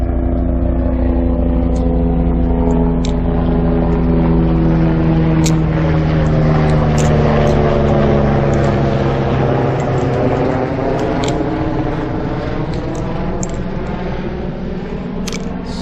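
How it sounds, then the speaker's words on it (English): A helicopter passes overhead, its loud rotor drone sliding in pitch as it approaches and moves away, with sharp clicks scattered throughout. "a helicopter just flew over top of my head"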